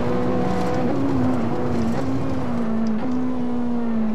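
Ferrari 458 Italia engine in the Assetto Corsa racing game, a steady loud drone holding a high pitch throughout while the car drifts, with slight wavering revs and a faint tyre hiss underneath.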